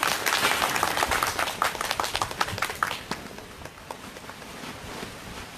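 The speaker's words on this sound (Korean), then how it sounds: "큰 박수 쳐주십시오." A crowd at an outdoor Wednesday protest rally against THAAD in Seongju claps energetically as two guests are called forward, brisk clapping close by that thins out and fades to scattered claps after about three seconds.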